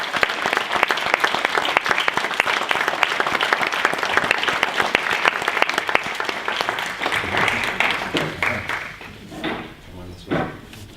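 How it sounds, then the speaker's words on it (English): An audience at an awards ceremony claps in a dense, steady burst of applause that lasts several seconds before thinning into scattered, fading claps. "So please give a big round of applause."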